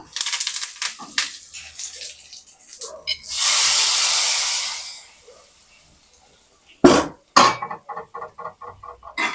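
Curry leaves dropped into hot oil for a pumpkin milk kootu, a loud hissing sizzle that swells and fades over a couple of seconds, followed by faint clinks and rhythmic stirring taps.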